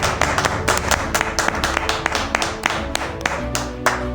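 A church congregation bursts into sustained applause in acclamation, many hands clapping densely and steadily close by for several seconds, with scattered sharper claps standing out.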